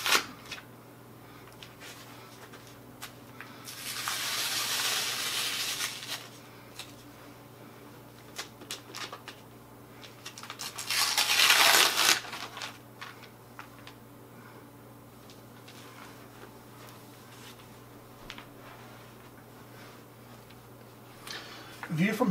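A fine art print on Hahnemuhle Baryta paper, well taped in, is unwrapped by hand: two long bursts of rustling, ripping paper and tape, close up, separated by quieter handling and small clicks.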